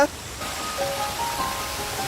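A waterfall near Chiang Mai, the source of a city canal, gives a steady, even broadband rush of falling water that holds at a constant level throughout.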